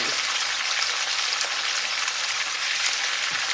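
Pork chops fry in very hot grease with a dense, steady crackling sizzle, close and even throughout, with faint scattered pops and no voices.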